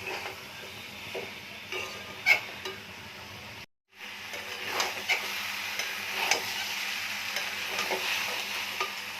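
Soybean chunks, papaya and potato being stirred into hot spiced oil for a vegetarian Indian curry, a steady close sizzle and frying hiss with scraping stirs, broken by a brief silent gap partway through.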